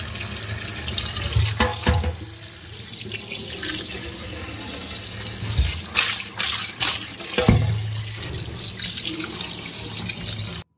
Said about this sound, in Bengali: এই দেখো মাছগুলোকে ঘষে ধুয়ে নিচ্ছে